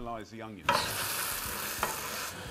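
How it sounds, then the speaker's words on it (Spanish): Onions caramelizing for chicken soup are stirred in a hot pan, giving a close, steady sizzle with scraping stir strokes. A brief tonal sound comes first, then the frying noise continues alone. "lo que debemos hacer ahora es caramelizar las cebollas"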